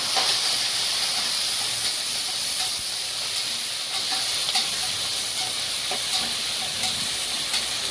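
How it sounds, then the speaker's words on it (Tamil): Green chillies, onion and curry leaves fry in hot oil for tomato rice, giving a steady, close hissing sizzle with faint stirring ticks throughout and no talk. "இப்போ பச்சை மிளகா, வெங்காயம், பச்சை மிளகா, கருவேப்பிலை போட்டுக்கலாம்"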